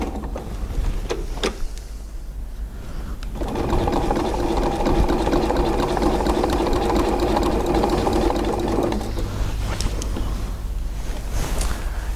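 A sewing machine quilting a machine embroidery project runs in a steady, close mechanical whir for several seconds, with brief starts and stops on either side.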